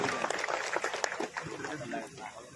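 Crowd clapping welcomes a newly appointed minister at a Marathi-language political gathering in Javali taluka, a dense burst of applause at moderate level with voices mixed in.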